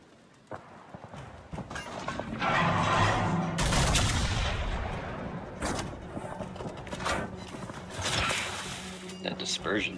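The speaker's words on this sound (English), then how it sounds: "He's shooting HE at me now." Naval gunfire from an enemy ship lobbing high-explosive shells in the World of Warships video game: repeated loud booming bursts and crackling impacts across the span, mixed with someone talking over the action.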